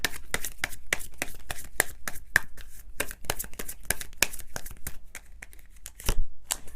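A tarot deck is shuffled and cards are drawn close up, with a rapid run of crisp riffling snaps and papery flicks, fairly loud and rhythmic, ending in a brief louder slap of cards.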